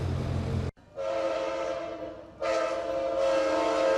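An Amtrak train rolls past with a sustained horn blast that cuts out briefly, then sounds again, loud and close over steady rumbling rail noise, with no voices.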